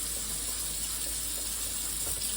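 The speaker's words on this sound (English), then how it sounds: "I'll just put it here and let the water run over it" Tap water runs steadily over frozen strawberries, making a continuous hissing splash that stays even and close from start to finish without any voices.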